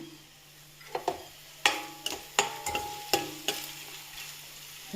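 Onions frying in a pan with half a spoon of salt give a soft steady sizzle, broken by sharp scrapes and taps as a spoon stirs them, close and quiet.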